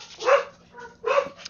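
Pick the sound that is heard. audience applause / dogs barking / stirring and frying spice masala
dogs barking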